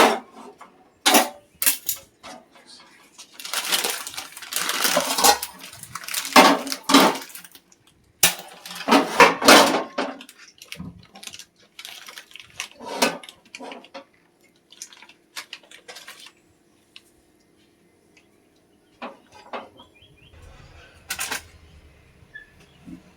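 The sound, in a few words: bowl and pans being set out for fish curry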